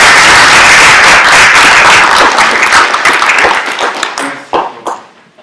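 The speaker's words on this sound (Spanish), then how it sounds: "para quien pido una fuerte recepción con un aplauso" An audience at a political reform forum in Mexico City breaks into loud, dense applause welcoming a speaker, the clapping thinning out and trailing off into scattered claps by the end.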